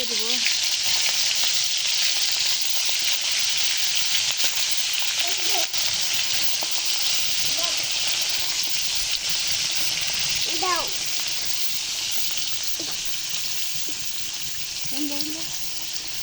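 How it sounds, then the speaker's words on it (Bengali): Hilsa fish frying in oil in a hot wok, a steady loud sizzle running throughout with occasional stirring clinks and a voice speaking over it. "এখন মাছগুলো দিয়ে দিলাম এখন ভালো করে ভেজে নিব"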